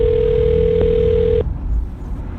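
A steady telephone dial tone hums loudly and evenly for about a second and a half, then cuts off abruptly, leaving quiet room noise.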